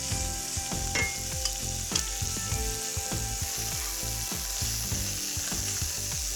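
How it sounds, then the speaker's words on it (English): Beef pieces browning in a layer of hot oil in a pan for a beef stew, a steady close sizzle with repeated scraping and clanking of a utensil stirring through, no talking. "Then in goes the beef. You want an even layer of the beef so that it browns really nicely."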